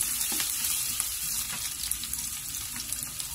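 Onions and garlic sautéing in a pan until golden brown, a steady close sizzle and crackle with faint stirring, no one speaking.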